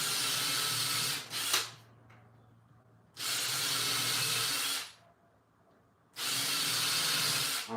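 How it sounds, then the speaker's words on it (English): Power tool cutting a channel into a wooden board for lighting, heard as three loud, sustained bursts of broadband whining roar, each a couple of seconds long, separated by quieter gaps with low motor hum. "I'm just cutting a channel in this board so that I can install lighting."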